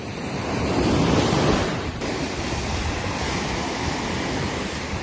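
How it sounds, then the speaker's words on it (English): Ocean waves rush steadily onto a Jamaican beach at night during a bonfire. A loud, continuous roar of surf swells and eases, with wind buffeting the microphone. "The rushing of the waves."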